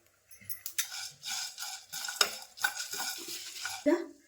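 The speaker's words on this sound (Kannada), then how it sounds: "ಇದಿಷ್ಟನ್ನು ಈಗ ಹುರ್ಕೊಳ್ಳೋಣ" Spices and garlic roasting dry in a pan, stirred with a spoon that scrapes and clinks against the metal in short repeated strokes.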